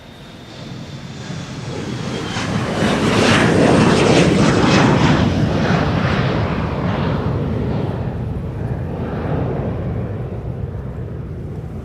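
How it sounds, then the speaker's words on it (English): KLM Embraer 175 jet at Amsterdam Schiphol Airport, its engine roar swelling loud and close, then slowly fading while staying a strong, steady rumble. "It's an Embraer 175."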